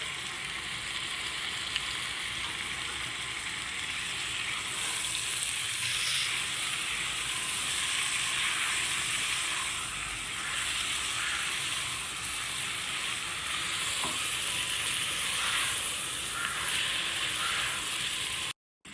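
Onions and tomatoes sizzle steadily in a pan for a pressure-cooker biryani, a close, continuous frying hiss that runs unbroken with no speech.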